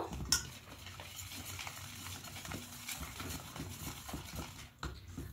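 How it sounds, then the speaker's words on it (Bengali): Milk is stirred and mixed in a pot with soft, quiet scraping and swishing strokes and occasional faint clinks, continuing at a low level throughout. "এবার নিয়ে ভালো করে মিশিয়ে নেব।"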